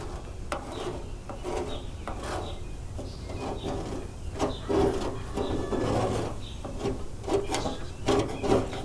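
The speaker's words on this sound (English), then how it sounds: "I'm gonna scrape the areas up that's lifting up, like right here." A knife scrapes lifting paint from the cab corner of an OBS Chevy Silverado truck, giving repeated rasping strokes in an irregular rhythm, close and moderately loud with no talking.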